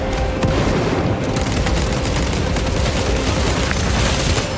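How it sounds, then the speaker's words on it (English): Loud, dense combat in Warhammer 40K Space Marine 2 surrounds a frag grenade blast: booming explosions merge with rapid gunfire into a continuous roar, with no quiet gaps through the whole stretch. "Deploying frag grenade!"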